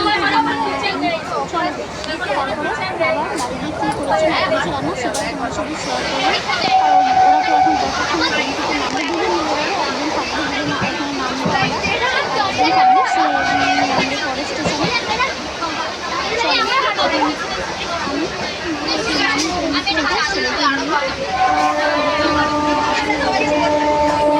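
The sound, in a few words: train at a station after getting off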